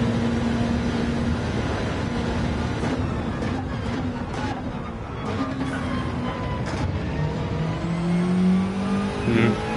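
A Subaru Gr3 race car in Gran Turismo 7 at Deep Forest Raceway, its engine droning and revving up and down steadily through shifts, loud and close, with a voice talking over it.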